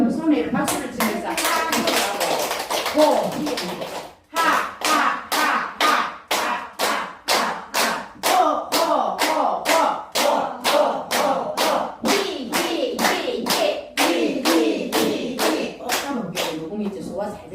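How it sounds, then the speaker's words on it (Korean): A group in a senior health exercise class claps hands together in a brisk, regular rhythm, sharp repeated claps continuing with a brief pause early on, while voices chant along underneath. "그럼 손에 이렇게 박수를 치면서"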